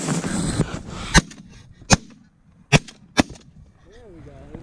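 Four sharp, loud shotgun blasts ring out at uneven intervals during a corn field goose hunt, with faint goose honks and rustling between the shots.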